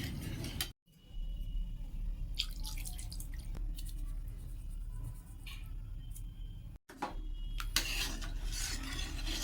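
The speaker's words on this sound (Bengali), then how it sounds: "এইবার পরিমাণ মতো জল দেব।" Water is poured into a simmering fish curry in a pan, spiced with Kashmiri red chilli and black cumin paste, producing a steady, close dripping and splashing wash that briefly breaks off twice.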